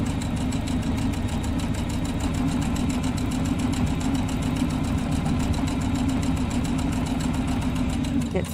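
A sewing machine runs steadily, stitching fabric kept against a quarter-inch presser foot guide while piecing a pillow wall hanging, with back stitches to lock the seam; a continuous, even mechanical whir with rapid needle ticking throughout, close and loud.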